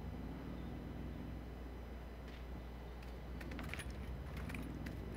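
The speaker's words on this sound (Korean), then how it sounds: "차 소리는 저기 능선 넘어가는 소리고" A vehicle engine in PUBG drives over a distant ridge, heard as a faint, steady low rumble that holds throughout under a quiet in-game ambience with a few light clinks.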